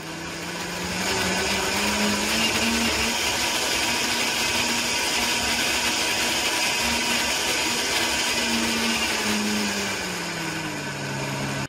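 A Karaca Powermix Smoothie Blender 1801 motor whirs loud and close. After a brief quiet start its pitch climbs, holds a high steady whine, then eases down slightly near the end.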